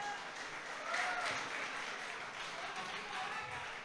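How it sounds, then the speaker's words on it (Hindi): At a Hindi shayari performance, an audience gives faint, steady applause that carries on evenly for a few seconds, heard from a distance with no other voices over it. "एक बार तालियां बजा दीजिए,"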